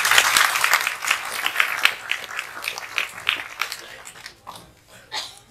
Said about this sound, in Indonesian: bisa tepuk tangan dulu